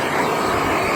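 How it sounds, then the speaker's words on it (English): A MAP gas torch roars with a steady, close hiss, brushed over a wheel rim to burn off stuck lint before powder coating. "take a torch, like this MAP gas, and lightly just go over the entire rim"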